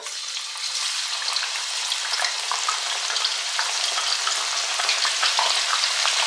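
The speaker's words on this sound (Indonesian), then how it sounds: "Saya mau menggoreng bawang putihnya dulu." Garlic frying in clean oil in a pan, a steady bright sizzle with faint crackles and pops throughout, close and continuous with no talking.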